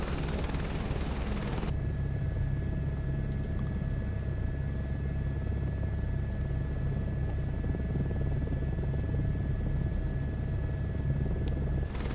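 Helicopter engine and rotor in Microsoft Flight Simulator 2024, a steady, loud, low droning rumble with a constant high whine that holds evenly throughout with no talk.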